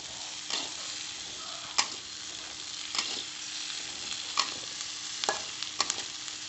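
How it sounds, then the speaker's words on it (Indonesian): Chili peppers fry in a pan with a steady sizzle, broken by sharp pops and occasional stirring scrapes, close and clear with no talking. "Nah, harus kita goreng."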